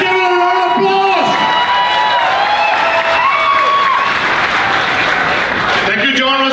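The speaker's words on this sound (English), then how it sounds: "Let's give it a round of applause" Applause and cheering erupt from the crowd at a Christmas gala, loud and sustained, with whoops and shouts mixed in and voices speaking over the clapping.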